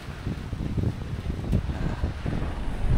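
Strong typhoon wind buffets the microphone in heavy, continuous gusts, a loud low roar with no voices.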